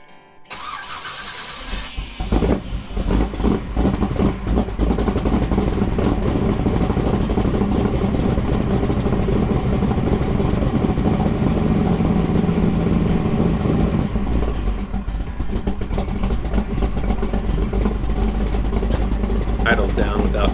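Chevrolet C10 truck's engine with a re-jetted Holley 4150 carburetor turns over, then settles into a steady, loud, close idle with a deep, even rumble, easing slightly lower near the end.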